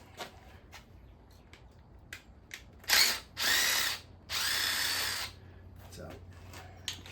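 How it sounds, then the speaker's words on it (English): A power drill spins off engine bolts during a bottom-end rebuild of a 1984 Chevy square body, with three close whirring bursts of rising length in an otherwise quiet garage marked by faint clicks. "we're going to spin them off with the drill"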